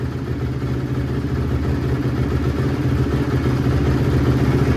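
A 2005 Honda CRF250R dirt bike engine idles close by, a steady low rhythmic thrum with mechanical clatter, even and unbroken.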